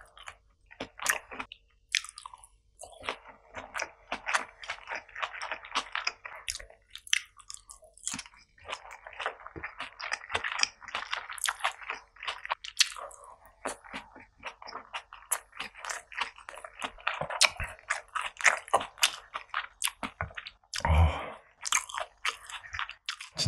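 Kimchi fried rice and a rolled omelet are eaten close to the microphone in a solo eating session, with repeated soft chewing, squishy bites and occasional crunches in an irregular rhythm, fairly loud and alone, with one louder bump near the end.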